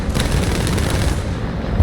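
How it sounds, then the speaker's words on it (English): Dense, continuous cannon fire from a Fw 190 A-5 fighter in War Thunder, a loud rapid rattle of shots running steadily through the whole stretch with a heavier thump at the very end. "Cannons on this thing smack, and you get a lot of firepower"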